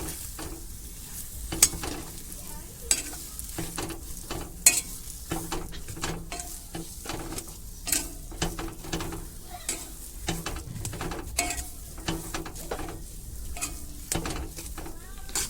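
A potato filling fries with cumin and chili powder in a pan, giving a soft continuous sizzle broken by scraping stirs and light clinks of a utensil, with no voices.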